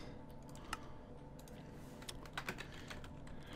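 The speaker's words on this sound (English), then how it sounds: "I need to type Lapis donations" Quiet typing on a computer keyboard, a loose run of soft key clicks with a few sharper taps, steady and close, with no talk.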